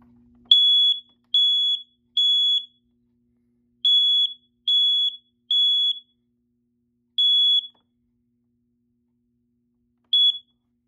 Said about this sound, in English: I'm going to activate the smoke detector by just clicking the buttons.